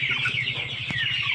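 Backyard broiler chickens about 55 days old cluck in soft, rhythmic, overlapping calls close by, with a higher chirping layer above and a brief knock near the end.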